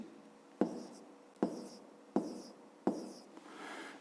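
A pen writes on paper while a fifth-grade maths exercise is being worked out: four short, close scratchy strokes, each starting sharply and then trailing off, with no talk over them.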